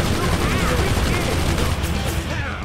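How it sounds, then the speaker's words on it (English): A machine gun turret in the video game Brütal Legend fires in dense rapid bursts amid other battle noise, loud and continuous, with someone talking over it. "the machine gun isn't actually that strong"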